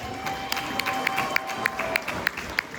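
Scattered clapping rises from an audience at a cancer fundraiser evening, sharp individual claps ringing out over a low room murmur for a few seconds.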